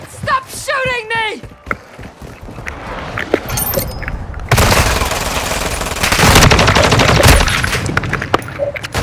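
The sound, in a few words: gunfire in Call of Duty: Modern Warfare II (video game)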